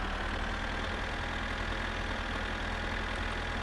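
The Satsuma car from the video game My Summer Car idles with a steady, unbroken engine and exhaust drone that holds a constant level throughout, with no voices.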